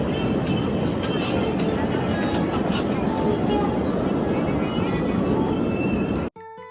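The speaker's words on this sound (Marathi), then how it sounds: "तर फायनली टॉय ट्रेन येत आहे." At Devka beach in Daman, a toy train approaches with a continuous loud rumbling roar that holds steady for about six seconds and then cuts off abruptly.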